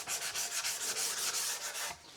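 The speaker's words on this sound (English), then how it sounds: "that is probably about 35 minutes worth of sanding there" Hand sanding of a Flying V guitar body, a steady rhythmic scrubbing with about nine even back-and-forth strokes, close and loud, with no voices.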